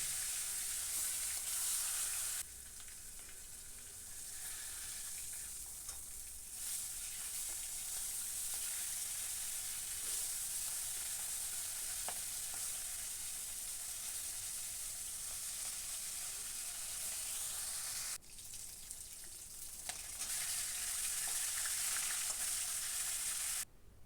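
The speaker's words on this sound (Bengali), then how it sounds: "তেলটা গরম হলে মাছের মাথা" A fish head fries in hot oil in a kadai-style wok on a gas stove, giving a steady, loud, continuous sizzle with two brief dips in intensity and no talking.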